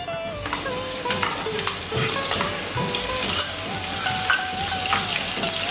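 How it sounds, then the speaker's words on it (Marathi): Onion paste with red chillies, bay leaf, cinnamon and cloves sautéing in a pan, giving a loud, steady sizzle with repeated scraping strokes of a spatula, close by and without talk. "व्यवस्थित परतून घेऊया हे सर्व"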